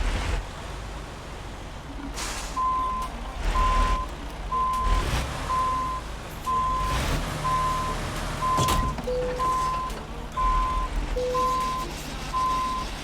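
Evenly spaced electronic reversing beeps from a truck backing up to hook a trailer in American Truck Simulator, repeating steadily over a low engine rumble with occasional air hiss.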